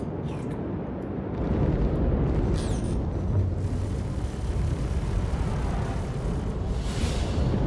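A missile detonates in Star Citizen, swelling into a loud, sustained rumbling roar that holds steady for several seconds with no voices.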